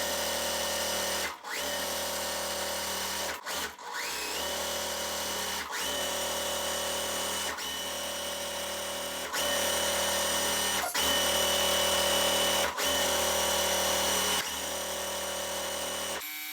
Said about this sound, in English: Let's go on ahead and start sewing this.